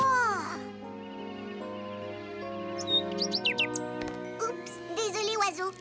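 Cartoon bird chirping in a French-dubbed animated children's show, a series of quick high tweets and trills that build in the latter half, mixed with tonal music-like sounds.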